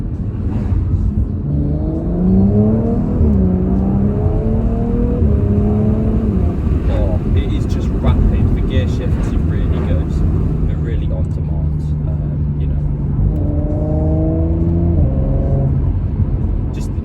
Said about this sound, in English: It's definitely one of the best sounding V6s I've heard.